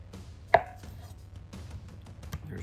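A sharp knife cuts through a chunk of bologna on a board, giving one crisp knock of the blade landing, followed by softer, quieter cutting sounds close by.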